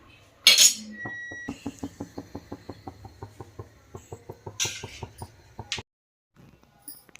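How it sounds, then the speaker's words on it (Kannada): A pressure cooker lid is fitted and closed over mutton biryani in a home kitchen: a sharp metal clank, then a quick regular run of light metallic ticks and a final clink, close and quiet, no talk. "ಚೆನ್ನಾಗಿ ಮಿಕ್ಸ್ ಮಾಡಿಬಿಟ್ಟು ಇವಾಗ ಕುಕ್ಕರ್ ಲಿಡ್ ಕ್ಲೋಸ್ ಮಾಡ್ತೀನಿ"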